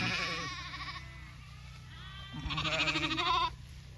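Lambs calling for their mothers bleat loudly and close by in a sheep flock, two long wavering cries separated by a short pause, with a low steady hum underneath.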